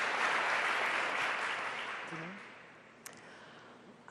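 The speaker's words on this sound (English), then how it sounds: "I'm sad about the applause for one Oh. side or another." Hall full of people clapping at a panel discussion on Israel and Palestine during a general assembly, dense applause that gradually thins and fades, with a brief voice near the tail.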